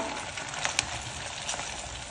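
Bread pieces for gulab jamun sizzle steadily as they fry in oil over a low flame, with a constant bubbling hiss and a few brief louder crackles. No talking.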